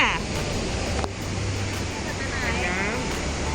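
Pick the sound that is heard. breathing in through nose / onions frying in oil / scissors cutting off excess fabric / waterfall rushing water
waterfall rushing water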